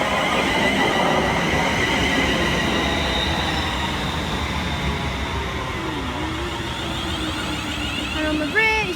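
A Class 350 passenger train arrives on the West Coast Main Line at Kings Langley, a loud steady rumble of wheels and motors that slows, with squealing brakes near the end.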